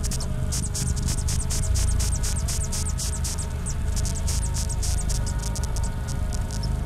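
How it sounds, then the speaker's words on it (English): A moth inside a honey bee hive gives off queen-bee-like sounds, heard as a steady series of short, high, pulsing chirps over a dense, low colony hum, close and continuous throughout. "It utters sounds that would normally come only from a queen bee."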